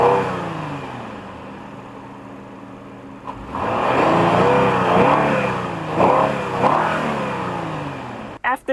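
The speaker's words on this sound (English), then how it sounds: "I'm gonna go inside and rev it a little bit so you can hear for yourselves how the car sounds" A Lexus engine with a newly installed F Sport intake idles steadily, then revs up in several rising and falling bursts, heard close and loud outside the car, dropping back toward idle before ending with a few clicks.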